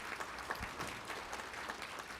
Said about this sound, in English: And we should clap for them.